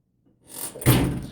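The door of a Whirlpool electric dryer, model LER4634BQ2, swung closed with a single soft thump after a brief rustle, close and fairly loud.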